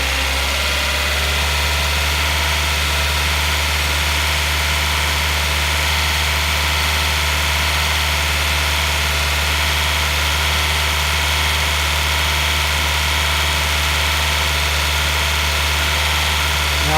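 A car engine, revved by hand at the throttle during a cooling system check, runs with a steady loud hum and drone, close and continuous with no talk.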